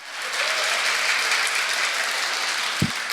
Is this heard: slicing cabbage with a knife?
no